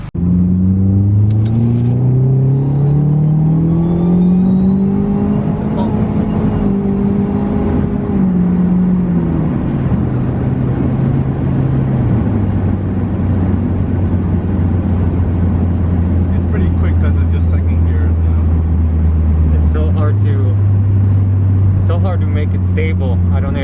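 A turbocharged Mitsubishi Lancer engine drones loud and close, its pitch climbing under revs, then easing back and settling into a steady hum with a small bump near the end.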